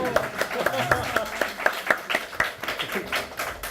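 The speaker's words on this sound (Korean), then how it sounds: "여기서 큰 박수 보내주세요." Audience clapping at a Korean author talk event, a scattered, modest round of claps heard faintly beneath ongoing speech.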